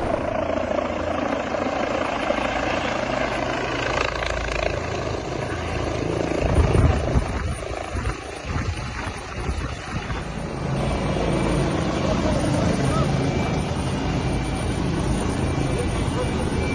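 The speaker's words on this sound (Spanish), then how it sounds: "el helicóptero procedía al rescate de ambos" A rescue helicopter flies overhead in a mountain rescue, its steady rotor and engine roar continuous and loud throughout while a voice talks over it.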